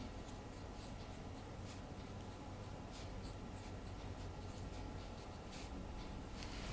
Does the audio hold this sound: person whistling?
no